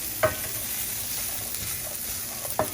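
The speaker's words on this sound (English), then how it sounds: "now we're about to cook the garlic and the thyme in this mixture for about a minute" Garlic and thyme cook in a shrimp étouffée mixture with a soft, steady sizzle, broken by two sharp scrapes of a spoon stirring the pan, close and without voices.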